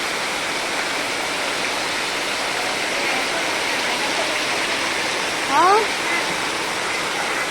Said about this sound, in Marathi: सकाळी जोराचा झाला आहे पाऊस सुरू